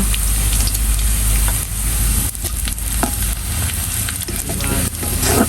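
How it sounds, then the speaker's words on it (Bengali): Cumin seeds sizzling in hot oil for a fish-head muri ghonto dal, a loud, dense, continuous close-up crackle with small pops and stirring scrapes throughout. "এবার আমি দিয়ে দেবো জিরা"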